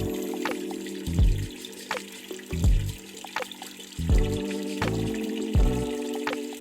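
Water runs from a pull-out kitchen faucet into a small washing sink, a soft trickle broken by repeated splashing bursts every second or so, close and quiet with no voices.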